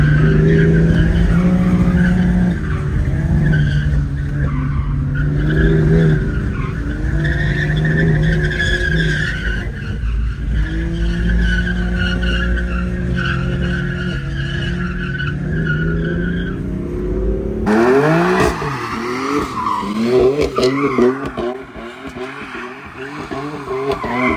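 A new 2023 BMW G80 M3 drifts with loud, sustained tire squeal and a roaring engine that rises and falls, then abruptly shifts to a harsher, closer skid near the end.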